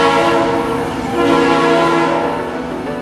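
An express train running from Phuket to Bangkok via Surat Thani sounds a loud, sustained horn that holds steady for about three seconds over rumbling rail noise.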